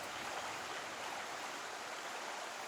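Water rushes in a stream at Orbaneja in a limestone tufa valley of Burgos, a continuous, even hiss of flowing water with no breaks or voices.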